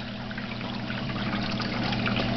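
Water drains steadily through a pipe in a custom red-eared slider turtle tank setup, a constant trickling, splashing wash over a low hum.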